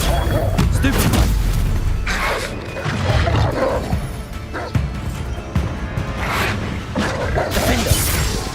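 Stupefy spells fire in the Hogwarts Legacy video game amid a chaotic duel, several sharp magical blasts and crashing impacts spaced through the action, with a voice shouting over the combat.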